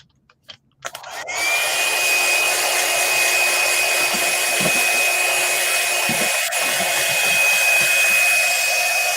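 A hair dryer blows steadily on freshly applied red flash color shift paint, switching on after a few faint clicks and holding a loud, constant whir with a thin whine for the rest of the stretch.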